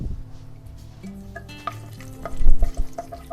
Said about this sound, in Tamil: அதில் ஃபஸ்ட்டு பட்டை கிராம் போட்டு தாளிக்கலாம்